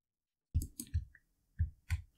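Crisp computer mouse clicks while aligning bone shapes in Blender, four or five close, sharp taps in uneven pairs with silence around them.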